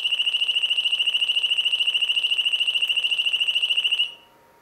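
Radar detector alert reacting to an Amata laser radar reflection: a steady, rapid electronic beeping at a high pitch, loud and close, pulsing evenly for about four seconds before cutting off into near silence.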